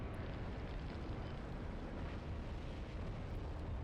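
Tank combat in the video game Graviteam Tactics, heard as a dense, sustained rumbling roar of distant cannon fire and battle noise, steady and loud throughout with no speech.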